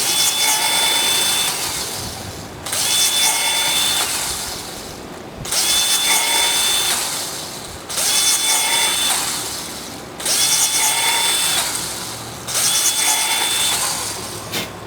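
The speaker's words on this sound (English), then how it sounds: "drill a hole right in the top on the lid. Drill goes right through that." A power drill whines in repeated bursts of about two seconds each, drilling holes through a plastic soda bottle lid, six in a row with short pauses between, loud and close.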